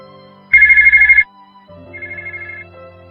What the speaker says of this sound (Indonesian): Suara dering ponsel Diva menandakan bahwa ada panggilan masuk.